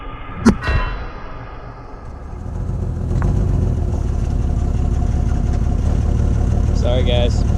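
A wrecked 2000 Jeep Cherokee XJ engine idles with a steady low rumble after a couple of brief clanks, growing slightly louder partway through and continuing alone to the end.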